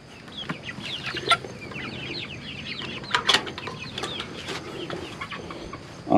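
Farm chickens cluck steadily in the morning in a small backyard flock, with overlapping calls near and far, a few louder squawks and a brief wing flap near the end. No one speaks.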